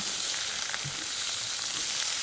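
Tomatoes slit at the back, frying in a little hot oil in a pan, giving a steady, close crackling sizzle with occasional soft pops, continuous and without voices.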